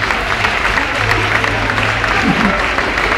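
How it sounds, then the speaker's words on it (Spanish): A concert crowd applauds and cheers between songs, a dense, loud wash of clapping mixed with crowd noise and a low musical hum, with voices shouting faintly within it. "¡Venga, más aplausos"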